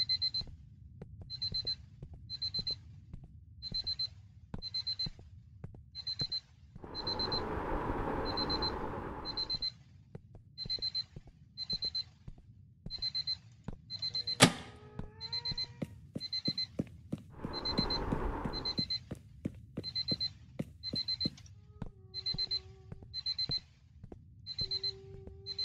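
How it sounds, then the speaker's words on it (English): A beeping alarm rings on and on in the ghost-hunting video game Paranormal Investigators. Its short, steady repeating tones carry on for a long stretch, joined by bursts of static noise and scattered clicks. "Also, this alarm is gonna drive me insane."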